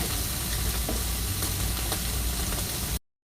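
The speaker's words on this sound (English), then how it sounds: "now we drop it in. You get that nice, beautiful sizzle" A dense, steady sizzle of a ribeye steak searing in a hot pan fills the clip, loud and unbroken, then cuts off abruptly near the end.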